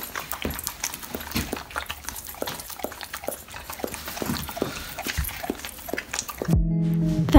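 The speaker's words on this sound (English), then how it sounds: "And here's some doggy ASMR for you." A dog makes close snuffling, whimpering and mouthing sounds in a quick irregular patter, with small bursts of movement and no talking.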